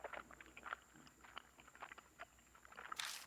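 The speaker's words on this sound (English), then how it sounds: "Like someone stuffing their cheeks with gum." Wet, irregular chewing and smacking heard faintly over a phone line in the horror video game Hanayome Death Mark, with a thin electronic hum beneath and a brief louder burst at the end.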